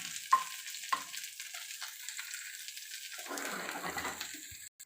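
Chicken pieces salted with turmeric frying in a pan for a green chilli and raw mango pickle, a soft, steady sizzle with a couple of sharp clinks and stirring sounds, faint and close.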